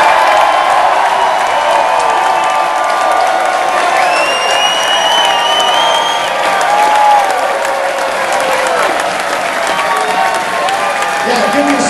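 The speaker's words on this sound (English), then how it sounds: "give yourself a round of applause because you're part of this" A large crowd at a Cincinnati gathering applauds and cheers, a dense, loud, sustained roar of clapping with scattered whoops and shouts throughout.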